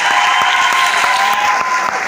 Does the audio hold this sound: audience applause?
yes